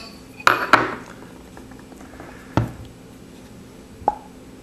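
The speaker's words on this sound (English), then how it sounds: "let's go ahead and remove the 2-piece barrel" Metal parts of a Proto Reflex Rail paintball gun clatter and clink as its two-piece barrel is taken off, giving a few sharp, close knocks spaced over several seconds with quiet handling between them.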